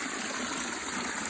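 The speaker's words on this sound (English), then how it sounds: "a hole in the ground and the water is just coming out of the hole. Because it's a natural aquifer" Water steadily flowing out of a hole in the ground from a natural aquifer on a fall nature walk in South Carolina, a continuous close rushing trickle with no voices.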